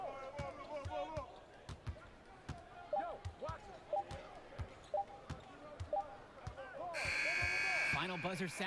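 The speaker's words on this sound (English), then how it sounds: "Final buzzer sounds, and that'll do it." Final buzzer sounding at the end of a basketball game in the video game NBA 2K21, a loud sustained electronic tone arriving near the end after repeated ball bounces, sneaker squeaks and arena noise, with game commentary talking throughout.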